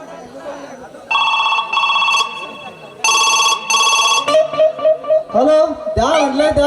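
A telephone rings in a Kannada village comedy stage play, loud electronic bursts of trilling ring in two long bouts, followed by a voice speaking over a warbling tone.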